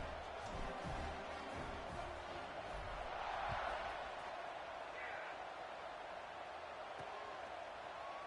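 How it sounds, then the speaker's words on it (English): Crowd buzz in a college football video game featuring LSU, a steady broad roar filling the stadium after a touchdown, with speech-like murmur and faint thumps under it at a constant level. "this crowd is buzzing after that last score"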